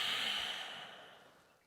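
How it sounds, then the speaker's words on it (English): A single long exhale during a dynamic yoga breathwork exercise, a soft airy breath that starts fairly close and fades gradually, with no talking. "And this is breathing out."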